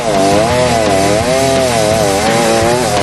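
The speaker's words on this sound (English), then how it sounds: "All right, chainsaw starting." A chainsaw cuts through a log during a junkyard building contest, its engine droning loud and steady with a wavering pitch as it bogs and revs under load, close and continuous without pause.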